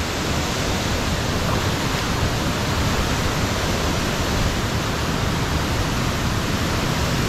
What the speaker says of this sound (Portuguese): Cachoeira.